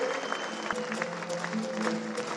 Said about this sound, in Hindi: अपने इन सब भाइयों के लिए जोरदार तालियां बजाएं